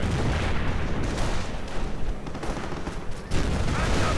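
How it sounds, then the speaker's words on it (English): Dense gunfire and heavy tank cannon blasts rumble together in a World War II strategy game battle, where paratrooper squads push back and Panther tanks give support fire. A steady loud barrage continues throughout with no clear pauses. "Fallschirmjägers pushing back. Panthers providing support fire."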